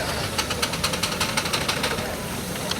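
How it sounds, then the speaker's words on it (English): Miniature 8 nominal horsepower steam traction engine, a three-speed model based on Lord Roberts, running in a demonstration ring at a steam rally, giving a steady rhythmic chuffing with crisp repeated beats over continuous background noise. "This one is quite a big engine, it's 8 nominal horsepower and a 3-speed locomotive based on the engine Lord Roberts."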